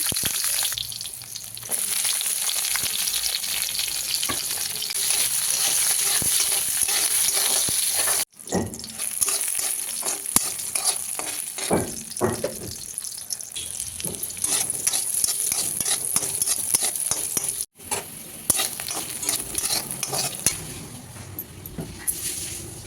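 Eggplant fries in hot oil in a pan, a continuous close sizzle broken up by stirring scrapes and brief pauses throughout.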